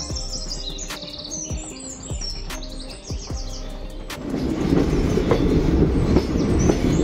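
A train rolls slowly along a ghat section of railway near Sakleshpura, with close rhythmic clickety-clack that swells into a louder, denser rumble after a few seconds, while birds chirp in the background.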